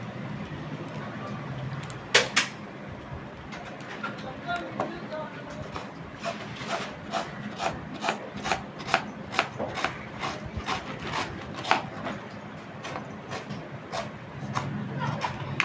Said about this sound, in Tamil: ஸோ இப்போ நம்ம வெங்காயம் கட் பண்ணிக்கலாம்.